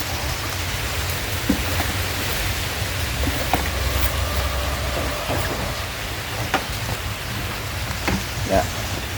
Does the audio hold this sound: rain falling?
yes